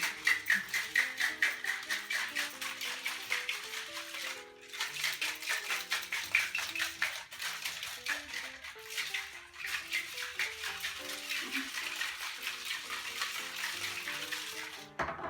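A cocktail with egg white shaken hard in a shaker, rapid rhythmic sloshing and rattling that runs almost continuously with one short pause midway, close and fairly loud.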